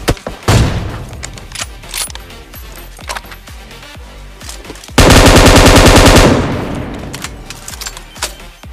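Automatic gunfire in Battleground Mobile India, with loud rapid bursts and scattered shots, then one dense sustained burst around the middle before more spaced shots follow.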